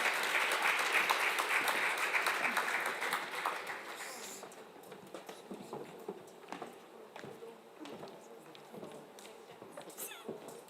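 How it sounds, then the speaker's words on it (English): Audience applause at a science centre's 10-year anniversary celebration, loud and dense for about four seconds before thinning to scattered claps that trail off. "I didn't quite get the warmth of that clap"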